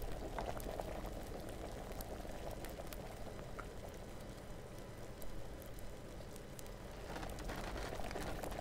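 A potion bubbles and boils during alchemy brewing in Kingdom Come: Deliverance, a dense, steady, close seething of liquid that rises slightly toward the end, with no voices.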